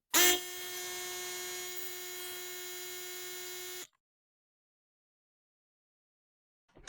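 A Fortress 6 gallon 175 PSI air compressor runs to refill its tank, giving a loud, steady motor hum with a strong buzzing tone for about four seconds before cutting off abruptly into silence.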